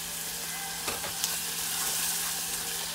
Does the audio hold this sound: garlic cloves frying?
yes